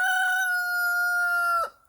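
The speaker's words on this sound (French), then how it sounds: "Ça, c'est mon jeune coq." A young rooster in a backyard chicken coop crows loudly and close by, one long sustained call that cuts off sharply at the end.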